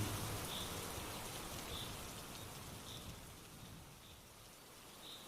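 Heavy rain falls steadily in a broad, dense hiss, with faint periodic high ticks over it, continuous and fairly close, with no voices.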